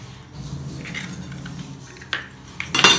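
A utensil stirs three eggs into a shomai filling, scraping and clinking against the bowl. The strokes grow louder and sharper toward the end, with no talking.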